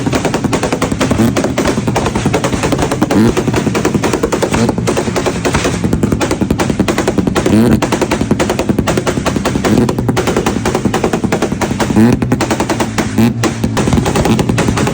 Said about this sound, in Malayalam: ഇത് നമ്മൾ ചെയ്തിരിക്കുന്നത് full system exhaust 6-inch can, പിന്നെ നമ്മുടെ T2 ബാങ്കറാണ് ആഡ് ചെയ്തിരിക്കുന്നത്.